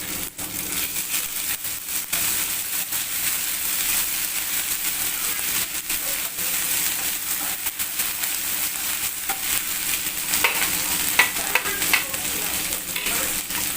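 Sliced onions fry with ginger-garlic paste in a pan for a hilsa fish dish, a steady close sizzle with occasional stirring scrapes, continuous throughout with no talk.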